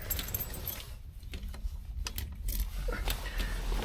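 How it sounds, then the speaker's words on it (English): A set of keys for a 1970 Lincoln Continental jingles close by in a hand, light metallic clinks and rattles in quick irregular bursts over a quiet background. "grab the keys so that we can look at the trunk"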